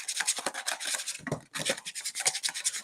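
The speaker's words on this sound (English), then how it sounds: "try and get out as many of these lumps as you could" A whisk scrapes steadily through lumpy paste in a dish, making a close, continuous scratchy rubbing with a brief pause partway through.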